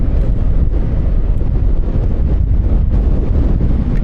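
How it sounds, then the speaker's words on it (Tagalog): Steady, heavy typhoon wind buffeting the microphone during a ride in rainy weather, a constant low roar, loud and continuous throughout, no voices. "kung naririnig nyo malakas ang hangin"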